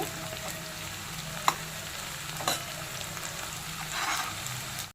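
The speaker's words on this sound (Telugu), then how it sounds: "ఒక 2 మినిట్స్ వేగనివ్వాలి ఆనియన్స్ కరివేపాకు." Onions and curry leaves fry in oil in a pan for spicy Andhra chicken fry. A soft, steady sizzle fills the clip, with a few faint clicks from stirring.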